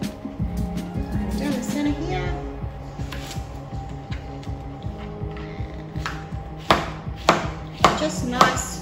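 Knife chopping chicken into roughly 2 cm chunks on a cutting board, a steady run of close, sharp chops that grows louder and more spaced toward the end, with a faint hum underneath.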